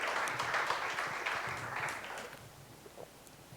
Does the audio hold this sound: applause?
yes